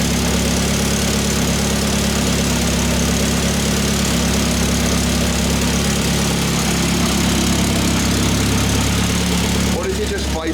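Idling engine of a fully built Evo X with a PT 6466 SST turbo, downpipe resting on a heat shield, runs loud and steady with a fine ticking rattle, like an exhaust leak or a tapping shield, throughout.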